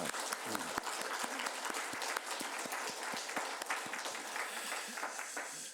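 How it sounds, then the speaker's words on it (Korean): A church congregation claps together at the close of a choir hymn during a Sunday worship service, a dense, steady round of applause filling the room for several seconds before trailing off at the end. "우리 영광의 박수를 하나님께 올리도록"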